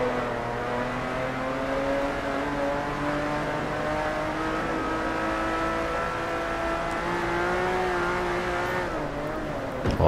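A TVR race car in Forza Motorsport 3 holding a steady, droning engine note with rising and falling harmonics under sustained load, loud and close, with faint tire noise and no talk.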